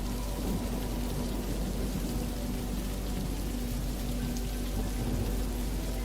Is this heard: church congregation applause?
no